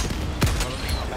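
Gunfire in the video game Helldivers 2, a short burst that peaks sharply near the middle of the clip over a steady bed of game noise, with a voice talking briefly.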